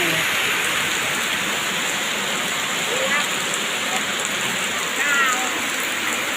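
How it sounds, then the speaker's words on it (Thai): Steady rain pouring down outdoors among rice paddy fields, a dense even hiss that stays constant throughout, with no voices. "ฝนตกพี่น้องเลย"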